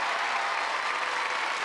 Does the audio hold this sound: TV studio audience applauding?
yes